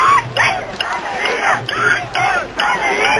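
Thousands of Tamil protesters outside the UK Parliament chant and shout in loud, rhythmic bursts, a dense crowd roar rising and falling in repeated waves.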